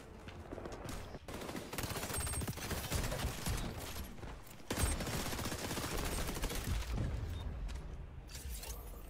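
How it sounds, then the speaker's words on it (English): Shotgun gunfire in a video game, heard as dense, loud, nearly continuous bursts of shooting and impacts that run almost the whole length, with only brief gaps. "A shotgun hit in the upper body seemingly only does 12 damage"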